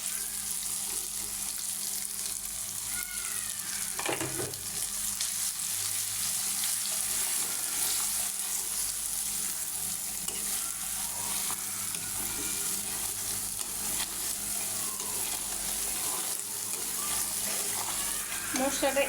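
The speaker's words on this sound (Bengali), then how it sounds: "মশলাটা এভাবে 2 মিনিট ধরে কষাবো" Salt, cumin, turmeric, chili and coriander powders frying in a pan for beef tripe: a steady, faint, continuous sizzle heard close, with a brief clink or scrape partway through and no talking.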